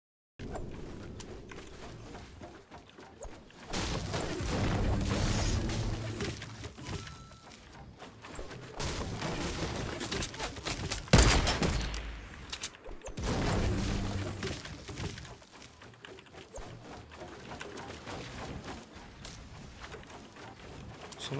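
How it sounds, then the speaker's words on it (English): Gunfire in the video game Fortnite: scattered shots and impacts over busy in-game action, with one sharp, loud crack standing out midway. "Someone's shooting at me."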